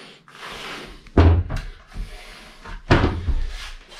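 Full-extension ball-bearing drawers in a tiny house double-loft park model are pulled open and pushed shut, giving two solid thuds with brief rolling slides, close and fairly loud, with no talk.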